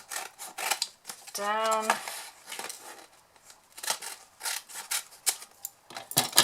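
Scissors snip through the printed branding on a card box, a run of close, crisp cutting strokes with a brief tonal hum in the middle and small handling rustles.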